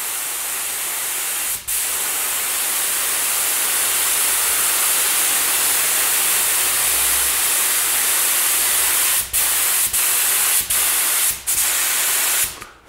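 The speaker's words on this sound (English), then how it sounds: "spraying the gun cleaner through the gun so you can see how the fan is and if the pressure is the same" A cheap spray gun blasts gun cleaner in a loud, continuous, close hiss of air and spray, with a few brief cut-offs near the end as the trigger is released and pulled again. There is no talk.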